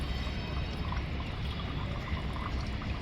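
Steady pouring of coconut water with a continuous splashing trickle, close by and without talk.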